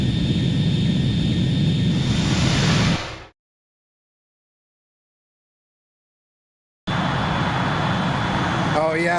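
Jet fighter engines roar steadily in the combat flight game Ace Combat 2, a loud continuous rumble and whine that cuts out into several seconds of total silence before the engine drone returns.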